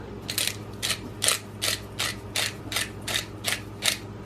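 A hand grinder cranked over nutmeg makes a steady series of about eight ratcheting, grinding bursts at an even pace, close and moderately loud with no talking.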